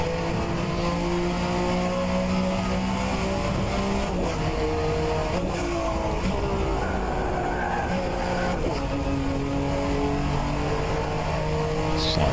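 A Group C sportscar at NOLA Motorsports Park in a racing video game screams along with a loud, sustained engine note. The pitch climbs and then drops at upshifts, including an early shift into fourth, with tyre noise throughout.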